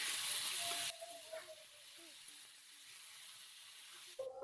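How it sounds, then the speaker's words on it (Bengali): Ridge gourd fries with ginger paste in a pan, a steady soft sizzle with occasional stirring scrapes, close and quiet, briefly louder at the start and end. "এখন আদা বাটাটা দিয়ে আরও কিছুক্ষণ নাড়াচাড়া করে ভেজে নিচ্ছি।"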